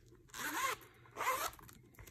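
A zipper on an iridescent bag with card and slip pockets runs twice, two quick close rasping pulls separated by a brief pause, alone in a quiet room.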